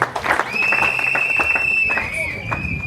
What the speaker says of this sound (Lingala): je vous demande de les applaudir plus fort